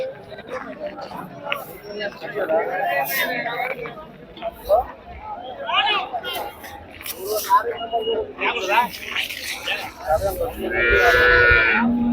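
Cows, including heavy-size HF cattle, lowing at the Sardar Nagar livestock market, several moos near and far over a busy hubbub of people talking, with one loud close moo near the end.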